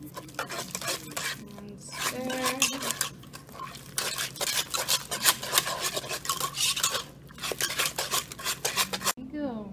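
A utensil scrapes and stirs sour cream into rosemary and shallot mashed potatoes in a bowl, with steady clinking and rubbing strokes close by, briefly pausing near the end.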